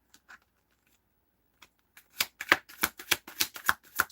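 A deck of cards is shuffled in a video game, a rapid burst of crisp riffling clicks after a few scattered soft taps, close and clear with no talking.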